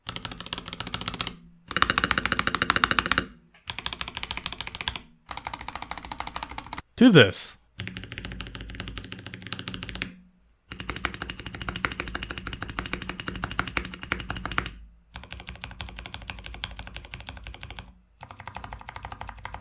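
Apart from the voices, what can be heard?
mechanical keyboard typing, lubed stabilizers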